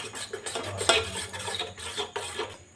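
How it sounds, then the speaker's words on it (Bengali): A spoon works Kashmiri chilli powder, ginger-chilli paste and garlic paste together in a bowl, making close, repeated scraping and clinking strokes in a loose rhythm with no talking. "এখন এটা খুব ভালোভাবে মিশিয়ে নিতে হবে।"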